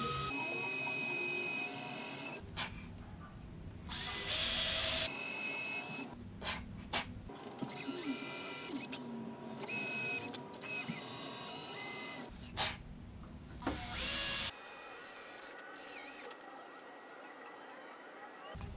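A drill bit boring a hole on a homemade Arduino CNC machine with stepper motors: repeated bursts of high, whining motor and bit noise start and stop across the stretch at moderate loudness.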